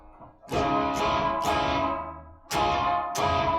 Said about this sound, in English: It's a nice little heavy distortion, that.